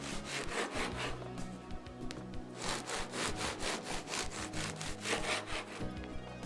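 Knife sawing through a crusty bread loaf into angled slices for bruschetta, with close, rhythmic rasping strokes and crackling crust repeated at a quick, even pace.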